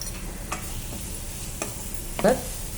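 Prawns sizzle softly in a pan for a prawn and cashew curry, with occasional sharp scrapes and clinks as they are stirred, all fairly quiet.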